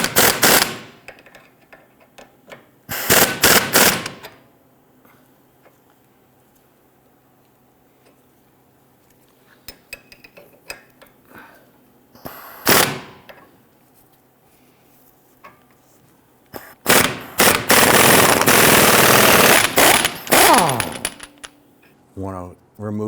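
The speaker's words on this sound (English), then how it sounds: "we're going to use our impact gun and our 24mm socket" An impact gun with a 24mm socket hammers at a tie rod jam nut on a 2011-2023 Dodge Charger, firing in several loud, close rattling bursts separated by quiet stretches of faint ticking and handling.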